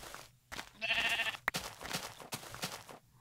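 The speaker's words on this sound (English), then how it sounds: "More sheep just spawned over there" Sheep bleating in Minecraft, several short nasal bleats in quick succession, fairly close and clear with no talk.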